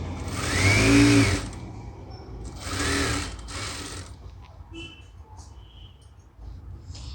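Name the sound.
sewing machine stitching fabric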